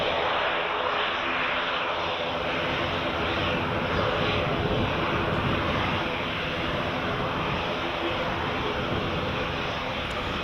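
An airliner taking off from Edinburgh Airport bound for Sofia, Bulgaria, its steady, dense engine roar filling the scene at a constant loud level throughout, with no pauses or speech.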